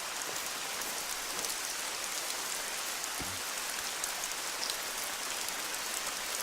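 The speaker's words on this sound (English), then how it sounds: "This rain makes it really hard to hear if anything's moving too." Continuous heavy video game rain hisses evenly throughout, a close, unbroken wash of falling drops with a single faint low thump partway through.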